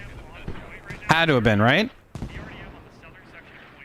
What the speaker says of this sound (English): Ooh, massive explosion. I don't know if that was an IED.